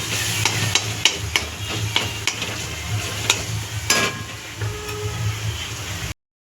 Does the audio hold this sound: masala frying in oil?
yes